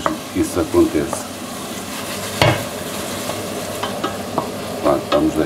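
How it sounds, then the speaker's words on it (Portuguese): Onion frying in a pan over moderate heat, a steady sizzle with intermittent stirring scrapes and one sharper clatter near the middle, close and fairly loud with no talking. "vamos deixar agora fritar aqui um pouco a cebola antes da próxima fase"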